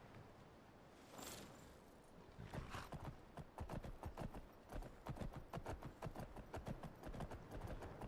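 Hooves pound rhythmically as a horse gallops in Skyrim, a loud, quick, even clatter that starts after a short lead-in and keeps going to the end.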